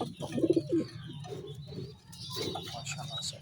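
Pigeons, including a Teddy pigeon, give soft low coos in a breeder's loft, a close burst of cooing near the start followed by quieter murmuring coos and a few faint chirps.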